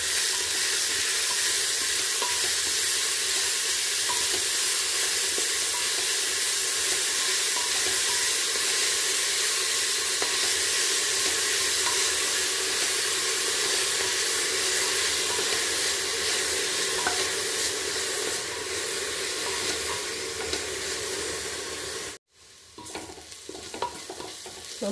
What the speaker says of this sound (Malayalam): ഇനി നന്നായിട്ട് ഇളക്കുക.